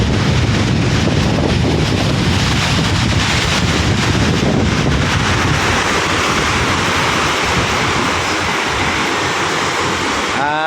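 Strong monsoon wind roars across the microphone while waves churn and break on Manila Bay, a loud, unbroken rush of wind and surf throughout.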